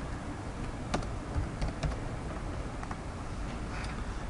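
Computer keyboard keys pressed for copy and paste shortcuts while working in Photoshop, a few scattered, soft clicks close by over faint background hiss, with no talking.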